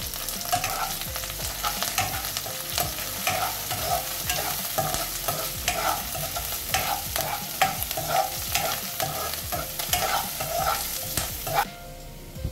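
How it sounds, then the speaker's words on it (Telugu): Lentils, ginger and curry leaves sizzle and crackle in hot oil for a tempering, with a steady bright frying hiss and repeated close stirring scrapes against the pan; no voices. "ఇప్పుడు నూనె వేడైంది. దీంట్లోకి మనం పప్పులన్నీ వేసుకుందాం."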